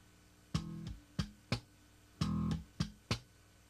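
Slap bass guitar played in a thumb slap, left-hand click and finger pluck pattern, with a handful of sharp percussive notes in uneven groups, close and fairly quiet, with no voice.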